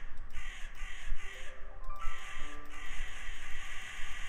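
A bird in a video game gives a series of harsh crow-like caws, several calls in quick succession, clear and fairly close over a busy game background.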